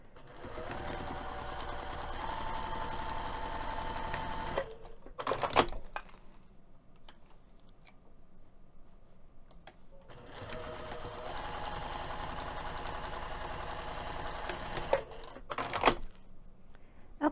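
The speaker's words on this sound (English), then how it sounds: "we'll be sewing from this end to the first marking, back stitch, and then we'll be sewing from that second marking to the opposite end" A sewing machine stitches a quarter-inch seam on a fabric box pouch with a lace zipper, running in two steady bursts of rapid needle clatter separated by a quieter pause with a brief back stitch.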